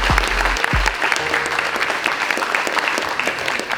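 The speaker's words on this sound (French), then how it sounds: "Un tonnerre d'applaudissements." Loud, dense applause from a large audience at a French eloquence competition final, a continuous wash of clapping with a couple of low thumps early on, sustained throughout without talk.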